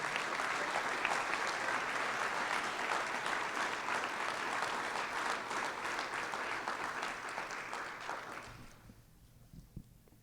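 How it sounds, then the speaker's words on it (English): A high school audience applauds National Honor Society inductees with loud, sustained clapping that holds steady for about eight seconds, then fades quickly into near quiet. "Give them a round of applause"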